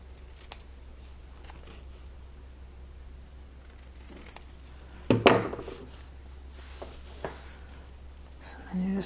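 Scissors snip through craft material while someone makes flower fairies, soft close cuts scattered among quiet handling noises, with one sharper crisp burst partway through.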